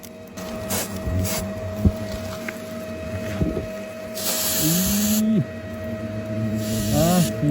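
Freezing spray hisses onto an outdoor golden-ringed giant hornet nest in two loud, sustained bursts about a second long. Scattered faint knocks and background noise sit between the bursts.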